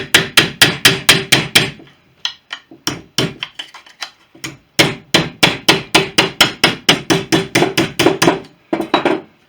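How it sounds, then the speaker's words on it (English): A planishing hammer strikes sheet metal held on a comma dolly while an aircraft fuel-tank outlet fairing is shaped, loud, rapid, evenly spaced blows in bursts with brief pauses between them. "Using a comma dolly and a planishing hammer"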